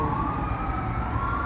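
Emergency vehicle siren on a Philadelphia city street, a steady, slowly rising wail carried over a continuous low rumble of traffic, with no one talking.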